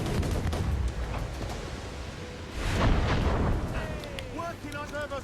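Ship cannons boom in a naval battle in Assassin's Creed Rogue: heavy rolling blasts and a big, sustained roar of broadside fire, followed by smaller cracks and some in-game shouting beneath.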